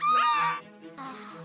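A crow-like bird gives a loud, harsh caw followed by a shorter, fainter second call after a brief gap, heard close and alone.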